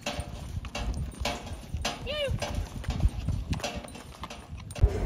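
Donkey hooves clip-clop on hard ground at Petra in Jordan, a steady close rhythm with a brief animal call and people talking.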